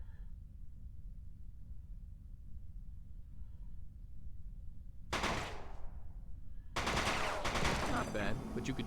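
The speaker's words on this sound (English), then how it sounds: "Let's try out a submachine gun." Submachine gun firing in Die Hard: Vendetta: a short rapid burst after a quiet stretch, then a second, longer and louder stream of fast shots through to the end.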